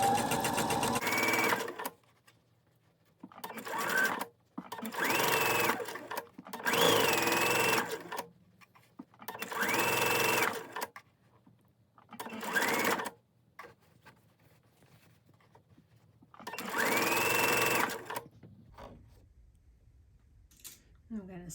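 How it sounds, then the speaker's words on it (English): A sewing machine runs a straight stitch along a fabric edge to form a casing for a mermaid tail, humming loudly in several bursts of a few seconds each with short pauses between runs. "I'm just going to sew a straight stitch along the edge here to create a casing"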